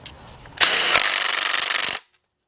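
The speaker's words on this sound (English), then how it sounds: "and tighten that bolt up" A power tool drives home the fuel pump eccentric bolt on a Buick 350 engine, a loud, close whirring burst lasting under two seconds that rattles slightly before cutting off.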